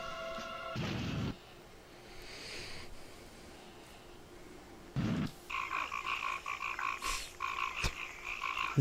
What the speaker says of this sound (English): The generic frog sounds.